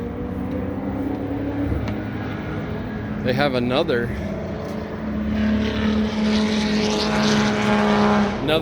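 Engines of street cars droning past on the Barber Motorsports Park track, rising and falling in pitch as they pass, with a person talking briefly over the noise.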